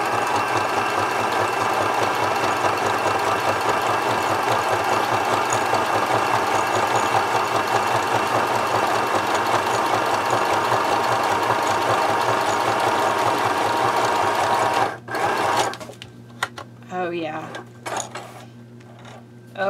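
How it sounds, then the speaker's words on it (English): Janome sewing machine stitching steadily around the edge of a paper card, a continuous close mechanical whir with rapid needle rhythm for about fifteen seconds, then stopping, leaving faint handling clicks and rustles. "I'm going to get really close to the edge of the card, like an eighth of an inch, and I'm just going to sew all the way around the edge"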